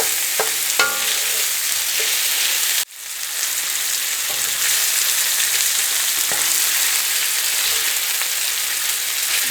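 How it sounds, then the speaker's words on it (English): Red beans cook in a pot with a continuous close sizzle and frying crackle while someone stirs them. A brief clatter breaks the sound near the start. "We're going to start stirring some of these. Giving a little color to it."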